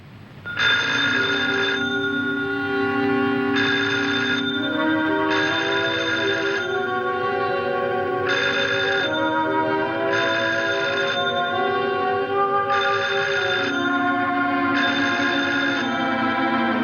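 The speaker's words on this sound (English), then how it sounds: "I can hear it ringing." A telephone bell rings repeatedly in regular bursts with short pauses between, clear and steady over a faint tonal background.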